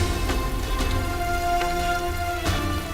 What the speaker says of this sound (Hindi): इस बारिश को भी आज ही होना था